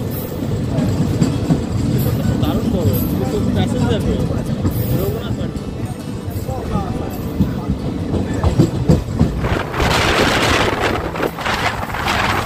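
The Paharia Express train from Howrah to Digha rumbles steadily along the rails with a continuous clattering roar; a voice speaks faintly under the noise, which grows brighter near the end.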